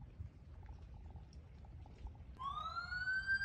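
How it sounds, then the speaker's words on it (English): A police siren wails into the background from midway, rising tones sounding somewhat distant over a low rumbling hum. "Y'all hear them sirens?"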